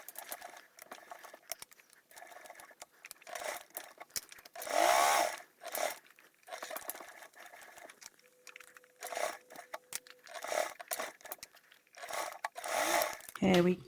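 Sewing machine stitching through a bulky insulated tote bag, short bursts of motor-driven stitching separated by pauses, with a person talking between and over the runs.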